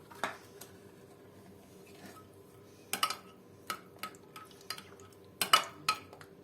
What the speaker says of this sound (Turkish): baharatları salçayla birlikte biraz karıştırıyoruz